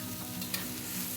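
Pork ribs stir-fry in a hot wok, giving a dense, loud, continuous sizzle with a brief stirring scrape partway through, heard alone without talk.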